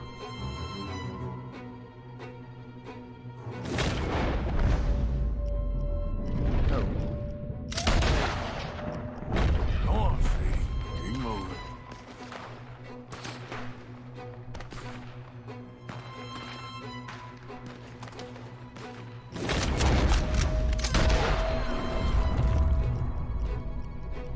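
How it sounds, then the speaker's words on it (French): Gunfire from the video game Red Dead Redemption 2, with repeated loud bursts of shots and booms in clusters over a steady game backdrop, close and continuous, with no voice over it. "Je vois pas d'où viennent les tirs."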